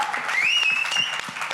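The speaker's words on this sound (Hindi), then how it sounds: "जोरदार तालियां" Loud crowd applause at a press conference for the Netflix film Kathal's trailer launch, steady clapping with a rising whistle cutting through for a moment.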